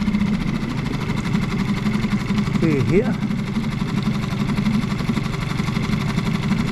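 An outboard motor idles steadily at close range in a harbour at Ostia near Rome, giving a constant low rumble throughout, while someone speaks briefly over it.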